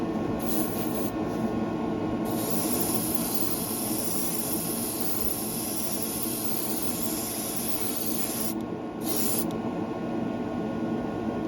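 A metallic blue-gray Kaleido Colorworks paint goes on in a medium coat, giving a steady, loud airbrush-style spray hiss. The hiss runs continuously, with short pauses and bursts near the start and again around the ninth second.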